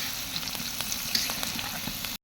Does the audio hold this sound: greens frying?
yes